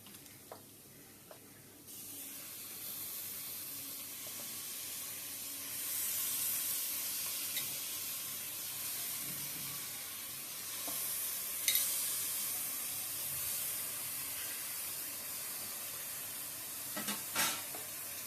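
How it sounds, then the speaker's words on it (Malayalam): Washed mutton pieces drop into masala frying in hot oil in a pot for a mutton curry, setting off a steady, close sizzle and hiss that runs throughout, with occasional scrapes and clinks of stirring. "അപ്പം അതിലേക്ക് ഞാൻ ഇപ്പം മട്ടൺ കഴുകി വൃത്തിയാക്കി വെച്ചിരിക്കുന്ന മട്ടൺ ചേർക്കാൻ പോവാണ്."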